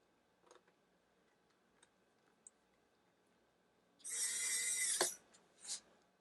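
A VMAN 37-in-1 precision electric screwdriver drives small screws back in, giving a loud one-second whirring burst followed by a shorter buzz in an otherwise quiet room with faint clicks.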